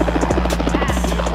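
A helicopter's rotor thumps in a fast, steady rhythm over a loud engine whine, close by and continuous.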